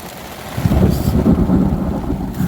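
Thunder rolls through a rainstorm while mint cobbler is being made outdoors, a loud, low rumble swelling over a steady hiss of rain with no talk.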